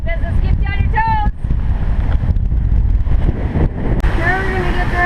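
A sailboat runs fast under strong wind at sea. Loud, continuous wind buffeting and rushing water fill the sound, while people speak and call out over it.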